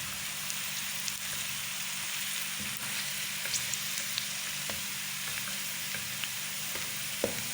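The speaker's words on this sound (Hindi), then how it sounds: "हाफ़ कप मैंने घी लिया है और उसके अंदर मैंने प्याज डाल दिया, एक मीडियम साइज़ का प्याज। हल्का सा हमने इसको ब्राउन करना है।" A medium-sized onion fries in half a cup of ghee, giving a continuous even sizzle with occasional faint clicks of stirring, close and with no talking.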